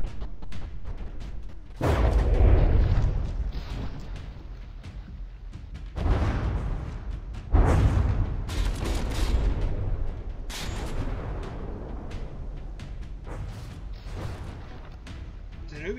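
Repeated deep explosions boom at irregular intervals in a naval battle in the video game From the Depths, each followed by a rumbling, crackling decay under a constant low background roar.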